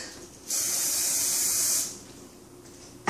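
A single sustained hiss of hairspray from an aerosol can lasting over a second, then stopping, followed by a brief click at the end.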